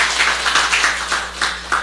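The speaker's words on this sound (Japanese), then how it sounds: "우리 모두 함께 하나님께 감사와 영광의 박수를 돌려드렸으면 좋겠습니다" A church congregation claps together in praise, a fairly loud, steady rhythm of many hands striking in unison with evenly spaced pulses and no voices over it.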